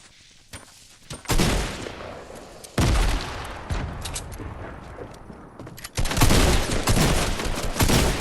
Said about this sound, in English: Should have missed that sniper shot is what should have happened, Rob.